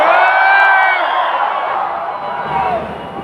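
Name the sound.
audience hooting and cheering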